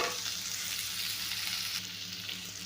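Onions sizzle and crackle in a hot pan, a continuous bright frying hiss with no talking.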